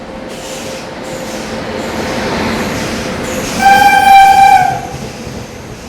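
The 17022 Vasco da Gama–Hyderabad Weekly Express, running Goa to Hyderabad, pulls out of a station with a steady rolling rumble, then sounds one long, loud horn blast about a second long near the end.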